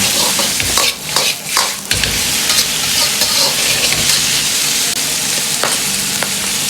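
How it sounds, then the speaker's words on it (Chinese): Wood ear mushrooms and celtuce are stir-fried over high heat in a wok, with steady loud sizzling and repeated scraping and tossing strokes, no voices. "快速的翻炒几下，炒出里边多余的水分"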